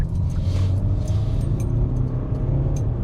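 2021 Hyundai Palisade Elite with a 2.2L turbo diesel accelerating in sport mode, a steady low engine drone and road rumble heard from inside the cabin, with light rattles over the top and no talk.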